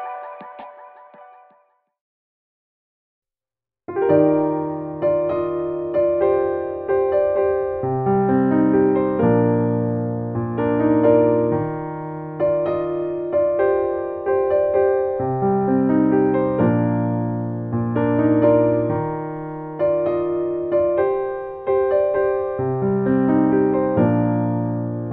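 Solo piano plays a steady flowing pattern of chords and melody that starts after a short faint sound and a pause of silence, then continues clearly and evenly to the end.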